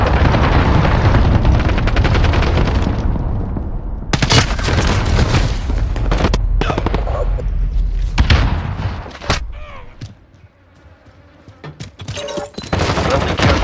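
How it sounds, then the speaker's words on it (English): Cruise missile strikes in the video game Modern Warfare set off booming explosions amid rapid gunfire bursts, loud and dense at first, then a brief lull before the blasts pick up again. "Allied cruise missile."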